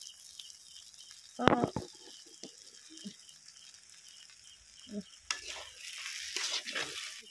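Paneer masala frying in oil in a pan in a home kitchen, with a soft sizzle under scattered scrapes and clinks of stirring, which grow busier toward the end.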